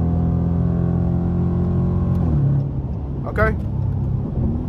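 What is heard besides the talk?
car engine while shifting gears with paddle shifters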